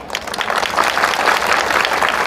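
A large crowd at a Bhim Army political rally in Hardoi claps steadily, a dense, continuous wash of applause that holds at the same loud level throughout.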